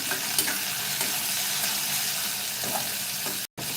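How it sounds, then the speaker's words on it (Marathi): Chopped onion sautéed and stirred in a pan while making a Maharashtrian shrimp (jawla) bhaji: a steady, close sizzle with faint utensil scrapes, continuous throughout, briefly cut off near the end. "कांदा चांगला परतून घेऊया"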